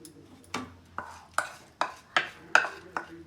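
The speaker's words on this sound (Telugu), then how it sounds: "ఆ సేమియా కూడా దీంట్లో వేసేసుకుందాం." Dry vermicelli tipped into roasted gram flour in a pan, a series of about seven sharp taps and scrapes at a steady, unhurried rhythm, close and clear against a quiet background.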